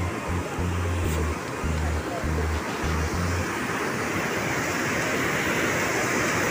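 Rushing river water near a bridge in Dharan, a loud, steady broadband roar that continues without a break, with a low rumbling undertone and no talk.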